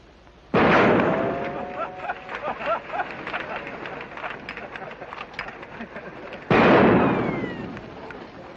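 Riders in a 1950 film fire a rapid, loud volley of gunshots, a dense crackle of overlapping bangs between two heavy blasts, with voices mixed in.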